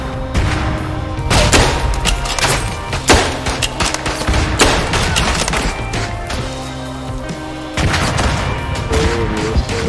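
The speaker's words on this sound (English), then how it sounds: "That guy pulled a pin on a grenade and dropped it." Dense World War One video game battle: heavy, continuous rifle and machine-gun fire with repeated loud thuds of a grenade explosion, close and chaotic, no talk.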